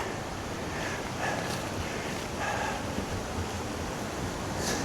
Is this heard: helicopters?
no